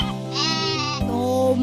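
A sheep lets out a single loud, wavering bleat close to the mic, sustained and nasal, with a brief break partway through.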